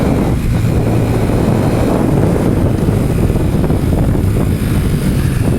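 A loud, steady engine drone rumbles without pause, a Mash 125 motorcycle idling or running nearby with constant low throbbing and no other sounds.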